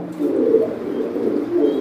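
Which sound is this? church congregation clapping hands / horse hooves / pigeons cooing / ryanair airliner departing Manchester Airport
pigeons cooing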